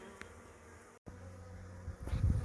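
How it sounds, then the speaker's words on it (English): Honeybees buzzing during the relocation of a weatherboard beehive in midwinter: a dense, continuous drone from many bees close by, briefly cut off by a short gap, then swelling louder toward the end. "the bees are clustering up in that corner"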